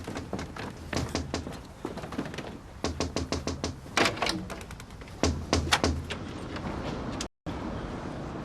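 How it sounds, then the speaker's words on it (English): Someone knocks on a front door in a domestic TV drama scene, sharp raps in several quick bursts with short pauses, close and fairly loud in a quiet room. "Someone at the door."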